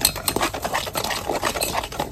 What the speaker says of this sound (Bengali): শুকনো উপকরণগুলো আগে ভালো করে একটু মিশিয়ে নিই